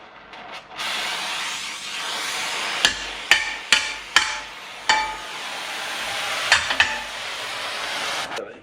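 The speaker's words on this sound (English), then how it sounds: "then I'm going to hammer it down into shape" A handful of sharp hammer blows ring out on a hot bus frame being hammered into shape, clustered in two short bursts over a soft background hiss of hot metal.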